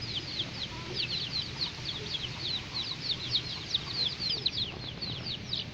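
A small rooster with a jet-black breast clucks in a steady run of short, repeated calls, close and continuous over a low background hum.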